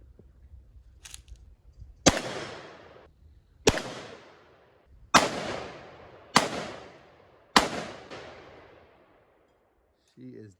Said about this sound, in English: We're gonna set up another target down here, probably by the steel target, and blast away some rounds.